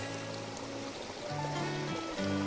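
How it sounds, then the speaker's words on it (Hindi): Waterfall water flowing at a temple, a steady continuous rush and trickle, near and moderately loud, with low tonal hum and faint background sounds throughout. "ये सब झरन का पानी सब देखिए कितना सुंदर"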